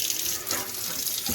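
Tap water pours in a steady, close hiss into a burnt cooking pan that has baking soda in it, for a short continuous stretch.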